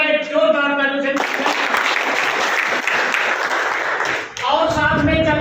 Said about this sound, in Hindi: मैं चाहूंगा एक जोरदार तालियों से।